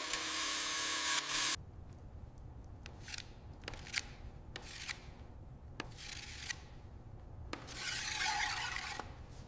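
A sanding block rasps over the running board of a 1930 Ford Model A, close and dry, in uneven strokes with short pauses and sharp taps between passes.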